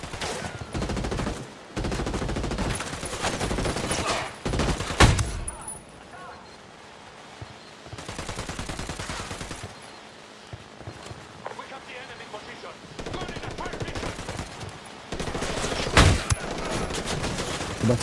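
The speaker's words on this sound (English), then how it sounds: "Opening fire." Rapid automatic gunfire from Ghost Recon Wildlands comes in repeated loud bursts with sharp cracks, under and between bits of talk.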